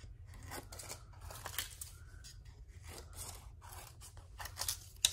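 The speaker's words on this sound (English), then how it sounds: "We will cut them apart." Scissors snip repeatedly through paper crafting supplies, a steady series of close, crisp cutting strokes with light paper rustling between them.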